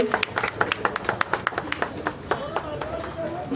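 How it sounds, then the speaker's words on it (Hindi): Scattered hand claps from a small group welcoming a minister on a visit to a sector-17 site, short sharp claps spaced unevenly over background voices and street noise. "जोरदार तालियों के साथ स्वागत कीजिए।"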